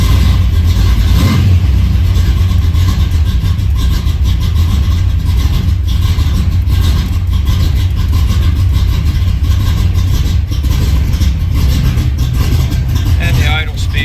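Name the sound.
engine idling with new FST carburetor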